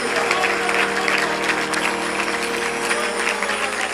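Church congregation at a New Year 2021 service in Amritsar applauding loudly and steadily, a dense wash of many hands clapping throughout, with faint voices mixed in.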